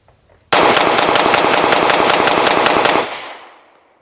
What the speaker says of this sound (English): one of the biggest things about this pistol is that it can shoot very fast